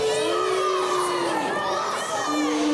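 Crowd at a live Fight Factory wrestling show cheering and shouting throughout, a dense, loud roar of many voices with high children's yells rising above it.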